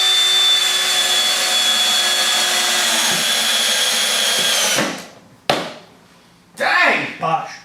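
Cordless Milwaukee or Bosch drill/driver whirring steadily under test for several seconds, then stopping abruptly, followed by a short burst and a final spin-up.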